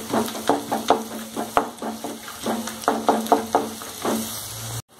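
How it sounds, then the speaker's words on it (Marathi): A lump of asafoetida frying in hot oil over a low flame while pickle masala is made, with a run of rhythmic scraping stirs about twice a second over a faint sizzle. The sound cuts off abruptly at the end. "आता त्याच तापलेल्या तेलामध्ये हिंगडीचा खडा तळण्यासाठी ठेवायचा."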